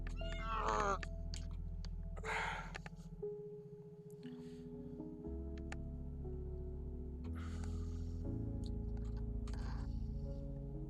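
Several meows from a house cat come in short bursts, close and fairly clear, over a steady low indoor hum. A person calls to the cat between the meows.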